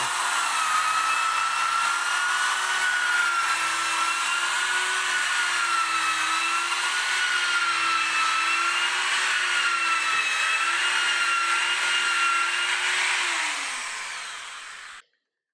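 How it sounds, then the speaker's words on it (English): A power drill boring a hole while building a garden vegetable bed in Melbourne, a steady high whine with a slightly wavering pitch running continuously for about fifteen seconds before cutting off. "I'm drilling the hole"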